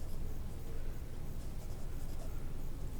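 A pen or marker scratches steadily across a writing surface during a maths lesson converting slope-intercept form to standard form, a continuous close, soft scraping texture with no talk.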